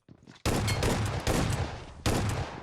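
Automatic gunfire from PUBG Mobile comes in three loud, close bursts after a quieter start, each one sharp and rapid.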